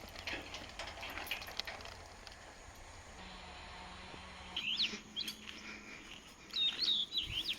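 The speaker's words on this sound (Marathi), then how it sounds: "मस्त पक्ष्यांचा आवाज येतो" Birds chirp outdoors at a rural house in Konkan, short high tweets rising toward the end over a soft background hum, with no voices.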